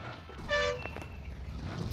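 Vehicle horn in the BGMI video game, one short tonal honk near the start over low engine rumble and faint background noise.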